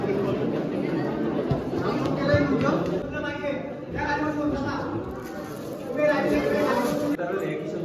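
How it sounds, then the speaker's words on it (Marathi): Dense crowd chatter fills the busy outer grounds of a Hindu temple complex, many overlapping voices close and loud with a steady murmur throughout. "बघू शकता किती गर्दी आहे वरती इकडे"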